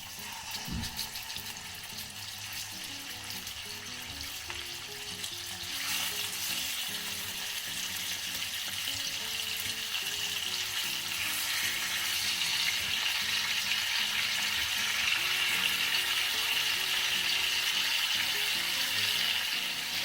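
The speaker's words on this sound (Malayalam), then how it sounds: "എണ്ണ ചൂടായി നമ്മളെ ഫിഷ് ഒന്ന് വറുത്ത് പോകാം" Seer fish frying in hot refined oil, a constant crackling sizzle that grows a little louder and fuller partway through, with faint stirring and no speech.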